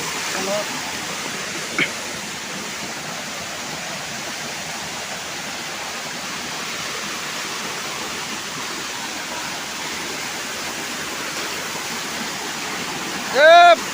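A waterfall rushes in a constant broad hiss of falling water that holds evenly throughout, with brief human sounds near the start and a short loud voice at the very end.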